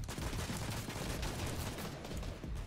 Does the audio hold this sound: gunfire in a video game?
yes